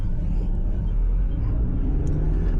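A car pulls away slowly as the clutch is fully released at about three miles an hour, giving a steady low engine rumble heard close up from inside, with no talking.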